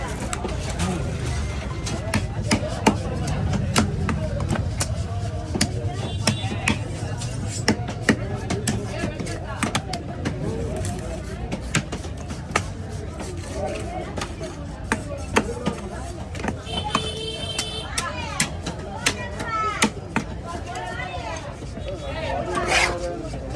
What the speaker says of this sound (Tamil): அந்த மீன் வெட்டிடு.